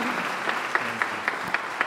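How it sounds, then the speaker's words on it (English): Brief, thin applause from a forum audience for panelists and a moderator, a few distinct claps standing out over a soft, steady patter. "Why don't we have a round of applause for our panelists and our moderator?"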